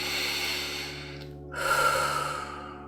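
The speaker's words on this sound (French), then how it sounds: "permets-toi de te relâcher profondément avec 3 grandes respirations" Slow, deep breaths during a guided relaxation exercise: a long close airy exhale fades, a brief pause, then a fuller inhale swells and trails off.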